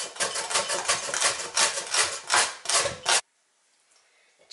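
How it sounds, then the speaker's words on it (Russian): A large carrot is rasped against a julienne grater in quick, rhythmic strokes, a close, steady scraping that stops abruptly, leaving near silence. "1 крупную морковь натираю соломкой."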